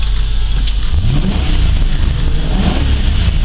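A 2006 Ford Crown Victoria P71 Police Interceptor V8 idling and revving up. The engine gives a loud, steady low rumble that swells into a rising rev partway through, heard close with no talking.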